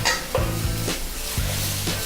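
Garlic crackles and sizzles in a very hot pan, the frying hiss punctuated by several quick stirring scrapes in a steady rhythm, close and fairly loud with no talk.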